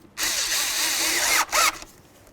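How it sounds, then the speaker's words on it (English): A power driver tightens a hose clamp on an oil cooler line of a Chevy S-10, whirring loudly and close for over a second, pausing briefly, then spinning again in a short burst. "Let's go ahead and tighten up the clamp."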